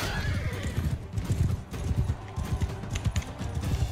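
Horses gallop in a battle in Mount and Blade Bannerlord, with a loud neigh and a steady run of thudding hoofbeats close by, amid faint battle noise.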